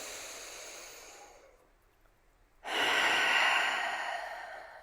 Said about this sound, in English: we're just going to breathe in and out